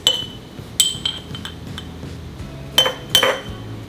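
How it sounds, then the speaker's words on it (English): Garlic cloves, mustard seeds and red pepper flakes dropped into glass jars for pickled carrots, giving a few sharp glassy clinks and taps spaced apart, with quieter rustling between. "in each jar, you're going to go ahead and put 2 cloves of garlic, 1 teaspoon mustard seeds, and 1 tablespoon of red pepper flakes"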